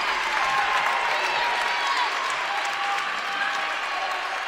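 A basketball crowd in a college gym cheers and claps in a steady, loud roar that holds for several seconds, with whistles and shouts rising through it.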